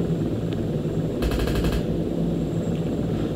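A burst of automatic gunfire in the combat video game Close Air Support: rapid, evenly spaced shots lasting about half a second over a steady low engine drone.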